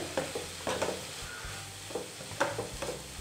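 Veg momo filling stirred in a pan, with a spoon scraping in several short, separate strokes over a faint sizzle, close and fairly quiet, no voices.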